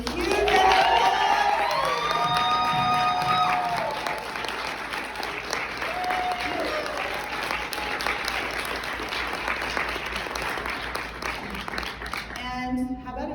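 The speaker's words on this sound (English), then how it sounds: "So can everybody give Bronwyn and Tara a huge round of applause?" Audience applause with cheering and whoops at a Rejuvenate You event, a dense crowd clapping loudly for several seconds before thinning out, with a few shouts mixed in.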